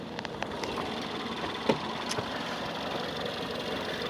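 A direct injection engine idles with a steady, even rumble and a light ticking clatter running through it, with an occasional faint click or knock over the drone.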